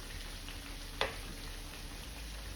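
French fries frying in hot oil: a steady, soft sizzle with one sharp pop partway through, with no voices.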